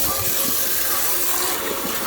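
Hot tap water runs steadily into a kitchen disposal drain, a constant loud hissing gush with no breaks, close to the sink.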